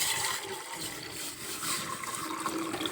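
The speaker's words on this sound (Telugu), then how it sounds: "ఒక అర లీటర్ వాటర్ వేద్దాం రెండు గ్లాసులు" A steady rush of about half a litre of water pouring into a metal pot, continuous and fairly close, with no talking.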